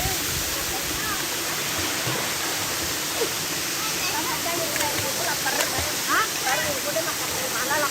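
Air Terjun Mangkol, a waterfall in Indonesia, pours with a loud, constant broadband roar throughout, close by, with faint voices and brief chirping sounds scattered over the rushing water.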